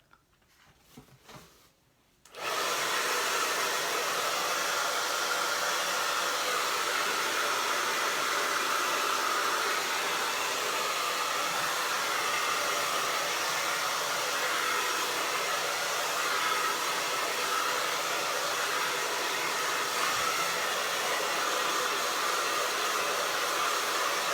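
A hair dryer runs continuously to dry a fresh coat of acrylic paint on a bluebonnet and grass painting, a loud steady whooshing roar starting after a brief pause and holding for the rest of the clip.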